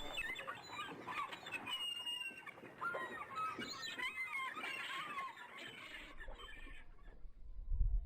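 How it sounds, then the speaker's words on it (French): Shrill seagull cries rise and fall over a steady rush of wind on the coast at Ardmore, Ireland, with a low gust rumbling near the end. "bercée par le cri des mouettes et le bruit du vent"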